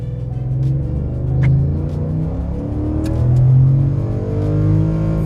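A Ford F-150 pickup with the 5.0 Coyote V8 and 3.73 gears, in four-wheel drive, launches at full throttle, its deep engine roar swelling and surging steadily as it pulls hard and close.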